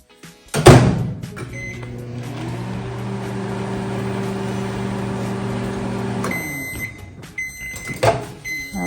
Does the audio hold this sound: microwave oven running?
yes